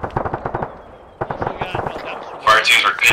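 Artillery shelling in the video game Arma 3 sounds as rapid bursts of distant, sharp booms and crackling impacts. A louder, dense blast cluster comes near the end, and the shelling runs under and between urgent radio-style voices.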